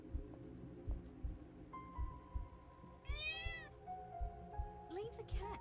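A cat meows with a rising, wavering call inside the Copycat video game, set over a low rhythmic throbbing hum and background game sounds, with a second shorter cry near the end.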